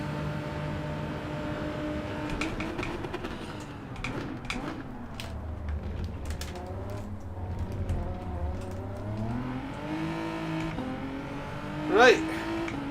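McLaren race car in a Gran Turismo 7 Group 3 race at Monza with chicane: a steady engine drone rising and falling with gear changes, heard under ongoing talk, with a brief sharp burst near the end.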